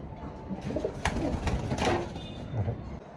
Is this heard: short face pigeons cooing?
yes